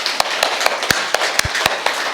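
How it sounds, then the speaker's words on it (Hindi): An audience at a spiritual talk in Mt. Abu clapping loudly in unison, a series of sharp, evenly spaced claps about every quarter second, close and crisp. "जोर से तालियां बजाइए"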